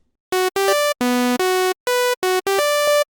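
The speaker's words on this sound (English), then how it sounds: "The first one will be Ethereal brass sound" An Ethereal brass pluck synth preset in Xfer Serum plays a short arpeggio of bright, harmonically rich notes, about eight in an up-and-down pattern with clean gaps between them.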